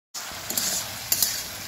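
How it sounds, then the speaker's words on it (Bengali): Mixed vegetables with chili paste, turmeric and salt sauté in a pan, a brief close sizzle with two or three quick scraping stirs. "এবার আবারও সুন্দর করে কষিয়ে নেব। হলুদ আর লবণ দিয়েই দিয়েছি, এটা কিন্তু একটু কষে নেব।"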